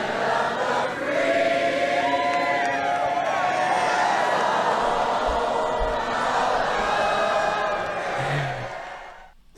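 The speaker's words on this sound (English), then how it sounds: "the whole crowd starts singing the national anthem" A large political rally crowd in Texas singing the national anthem together, a broad, sustained mass of voices carrying a slow melody, loud and continuous with a faint background murmur.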